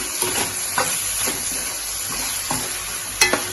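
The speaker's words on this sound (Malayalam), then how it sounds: "ഇനി നമുക്കിത് ഒന്ന് ഇളക്കി" Chilli prawns being stirred in a pan, a steady sizzling hiss broken by a few distinct scrapes and knocks of the spoon against the metal, close up, with no talking.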